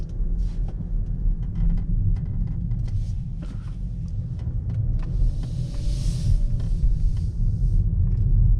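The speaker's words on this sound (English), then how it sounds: "You do hear a lot of road noise." Low, constant road rumble fills the cabin of a 2019 Cadillac XTS while driving, a deep steady drone with faint tire hiss and occasional light rattles, and no one speaking.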